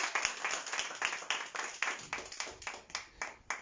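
A church congregation claps together in a fast, steady run of hand claps, moderately distant and reverberant, carrying on for several seconds with no talking.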